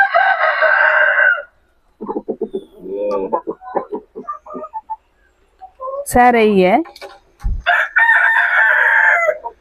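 A broody hen sitting on eggs clucks and squawks loudly at close range, with harmonic calls and short bursts, interrupted by someone talking in between.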